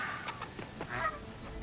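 A bird in the video game Horizon Forbidden West gives a short series of clucking calls, close and fairly loud, with no talk over them.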